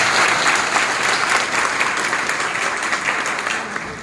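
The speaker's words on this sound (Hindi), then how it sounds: "इस कतार के लिए जोरदार तालियां बजाओ।" A crowd of political party workers at a rally in Shahpur claps continuously, dense and loud throughout, fading slightly toward the end.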